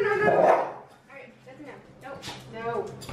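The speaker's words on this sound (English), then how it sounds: "the dog's trying to get the lid." A dog barks and whimpers indoors while trying to get a lid out of a person's hand, with short yips and bow-wows coming close up as people talk over and between them.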